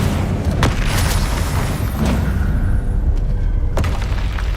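A loud Incendio fire spell blast from the Hogwarts Legacy video game, a heavy booming roar that sustains throughout with sharp cracking hits near the start and end.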